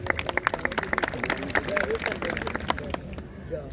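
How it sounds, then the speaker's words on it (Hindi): An audience claps for the newly appointed president of the UK branches at the Jhelum Forum Sports Board opening ceremony, a steady patter of hand claps that thins out toward the end, mixed with murmuring voices in the hall. "तो उनके लिए तालियां प्लीज।"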